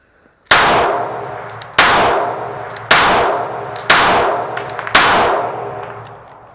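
Five loud gunshots from a Springfield XD-S Mod 2 OSP pistol, spaced about a second apart, each a sharp crack with a ringing, decaying tail, plus faint metallic pings of rounds striking a steel target between shots.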